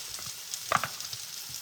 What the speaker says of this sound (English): just right away add my mushrooms. We're basically like hand frying these.